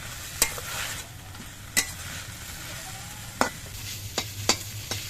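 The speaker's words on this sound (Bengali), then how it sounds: "নুন দিয়ে এবার পাতাগুলোকে আমি ভেজে নেব ভালো করে" Kharkol leaves with salt frying in a pan: a steady close sizzle with occasional sharp scrapes and knocks of a spatula stirring them, no voices.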